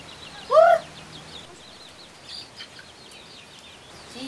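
A hen gives a single loud cluck near the start, followed by faint scattered clucks and chirps from chickens in a quiet rural yard.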